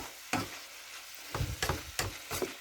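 Pork being stir-fried in a pan for a home-style Thai basil dish, with several sharp sizzling bursts and scraping stirs spaced apart against a quiet background, no talk.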